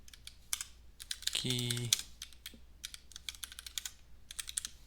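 Rapid bursts of clicking keystrokes as code is typed on a computer keyboard, close and crisp in irregular runs, with a brief spoken word partway through.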